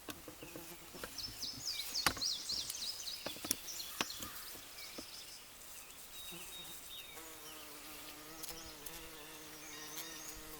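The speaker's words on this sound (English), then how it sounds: "today I'm looking at these big bumblebees" Big bumblebees buzz in and out of comfrey flowers outdoors, a close, wavering drone that rises and fades as they move between blooms, with faint birdsong and insect chirps in the background and no talking.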